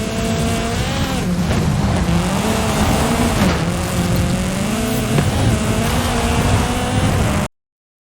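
An Exocet buggy tears off-road in the Forza Horizon 5 racing game, its engine revving loud and close with rising and falling pitch through gear changes, then cutting off abruptly near the end.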